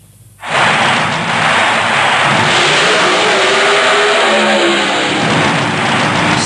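Drag racing car engines in Burnout: Championship Drag Racing burst into a loud, sustained roar after a brief quiet start, then hold a steady high-revving howl.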